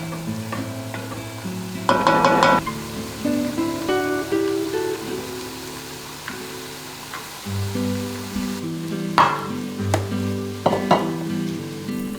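Vegetables sauteing in a pan for a pasta sauce, a steady close sizzle broken by clanks and scrapes as a utensil stirs them, with no talking.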